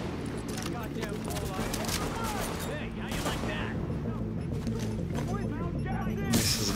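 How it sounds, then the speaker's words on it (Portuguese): Repeated grenade blasts and heavy gunfire in The Division video game, a dense, continuous barrage of booms and shots with a louder burst near the end, under someone talking throughout. "Essas granadas fazem efeito."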